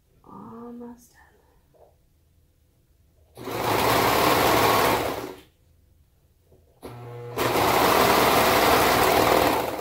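A sewing machine stitches baby or toddler bell bottoms in two sustained, fairly loud whirring runs, separated by quieter handling and brief speech near the start.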